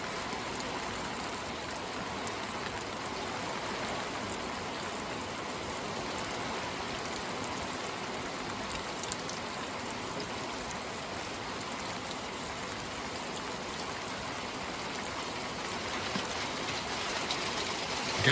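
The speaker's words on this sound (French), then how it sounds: "La bonne pluie là." A heavy rain shower during a spring squall, a dense steady hiss of falling drops that continues evenly and at moderate loudness throughout, with no talking.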